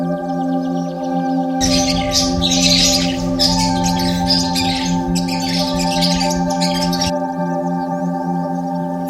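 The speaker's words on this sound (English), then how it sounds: "Finch." A finch sings a dense, busy twittering and squawking burst for several seconds over a steady tonal musical background, then falls silent while the music continues.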